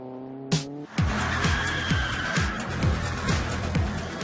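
A heavy two-ton-plus Rolls-Royce drifting through corners, its tires squealing in long sustained screeches over a strong engine roar, with repeated sliding bursts throughout after a brief opening rev.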